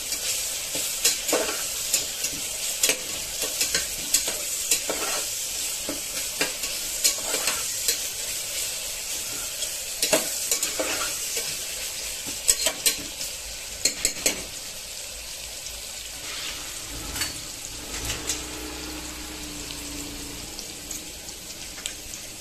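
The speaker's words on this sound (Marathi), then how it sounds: "याच्यात आपण 1 वाटी बारीक चिरलेला टोमॅटो घेऊया, चांगलं परतून घ्यायचंय" Finely chopped tomato sautéing in a pan for palak pulao, a steady close sizzle with frequent stirring scrapes and clinks throughout, no voices.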